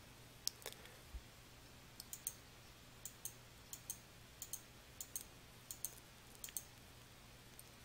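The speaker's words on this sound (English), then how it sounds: "you can do it even more quickly by simply clicking through the document using the Replace Next button" A computer mouse clicks repeatedly on the Replace Next button in Adobe Acrobat XI, giving a steady series of about a dozen crisp, close clicks over a faint hum.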